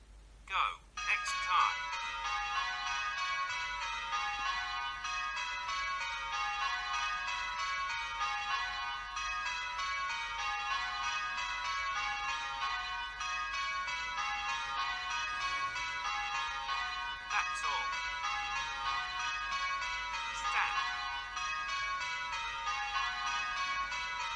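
Simulated church bells ring the Kaleidoscope long places method on a bell-ringing simulator, a steady, even run of clear bell strikes with a voice talking at times.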